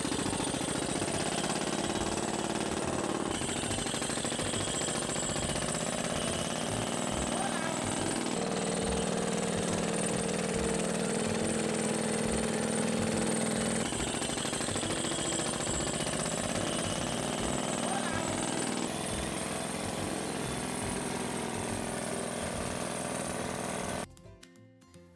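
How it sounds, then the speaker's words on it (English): A Shakti 341 crawler drill runs steadily with a dense, rattling hammering drone that holds for over twenty seconds before cutting off abruptly, with no voices. "The Shakti 341 crawler drill will make you exclaim,"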